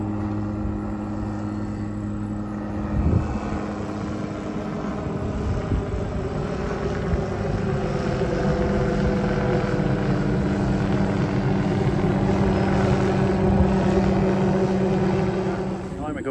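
A helicopter fitted for trimming trees drones steadily overhead, a continuous rotor and engine hum at moderate distance that holds for the whole stretch.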